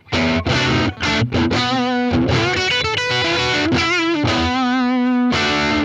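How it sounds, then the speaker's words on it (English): A loud distorted electric guitar on the bridge humbucker, volume and tone full, with a Fender Tone Saver treble bleed circuit, plays bright, cutting chords and riffs with a sharp treble edge, ringing continuously with no one talking. "now here's what it sounds like with the tone saver installed"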